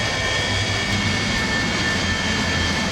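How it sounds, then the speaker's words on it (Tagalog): An enemy fighter airplane flies past as a steady, droning engine roar with a high whine, continuous and fairly loud, with no talk. "Akitin ko ang eroplano ng kalaban."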